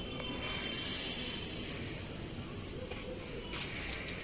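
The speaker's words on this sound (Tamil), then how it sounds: "மசாலா தடவின இந்த ஃபிஷ்ஷை கிரில் மேலே வச்சிடலாம்." Masala-coated fish is laid on a lightly oiled barbecue grill, producing a soft steady hiss that swells briefly, then continues under faint clicks and light handling noises.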